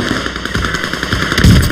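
Sustained automatic gunfire in the Call of Duty Warzone video game, a loud, dense stream of rapid shots with a heavier burst near the end.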